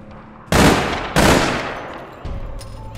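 Gunfire from the online shooter game APB Reloaded: two loud, close bursts crack out one after the other, each trailing off, then a third weaker burst follows.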